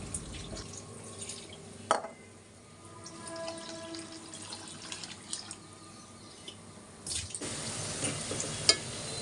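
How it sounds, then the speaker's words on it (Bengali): Basmati rice rinsed in water for beef kacchi biryani: soft sloshing and dripping with a few knocks of grains and container, then running water at the end, close and fairly quiet, with no voices. "আর এই চালটাকে খুব ভালো করে ধুয়ে নেব।"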